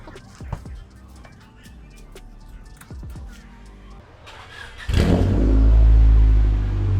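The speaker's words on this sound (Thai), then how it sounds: "ขอฟังเสียง เจ้ารถคันนี้ได้เลยครับ" A Honda Civic three-door with a D-series engine, first heard as clicks and knocks, then firing up to a loud, close engine roar that swells as it revs toward the end.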